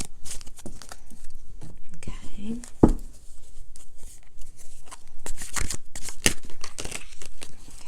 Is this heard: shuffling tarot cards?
yes